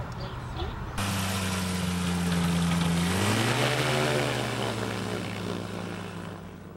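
An ultralight trike aircraft's engine drones steadily and loudly in flight, its pitch dipping and rising once midway, with constant wind rush close to the open cockpit.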